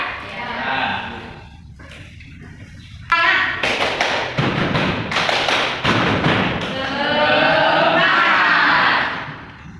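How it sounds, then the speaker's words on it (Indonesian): A group of children claps in rhythmic bursts while chanting and shouting together in a classroom, loud and close, with pauses between the clapping patterns. "kita tepuk semangat dulu ya."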